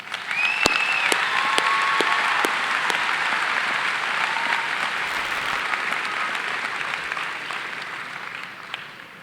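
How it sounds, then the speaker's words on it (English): A graduation ceremony audience applauds in a large hall, dense sustained clapping from many hands that holds steady throughout and tapers slightly at the end. "Round of applause for them,"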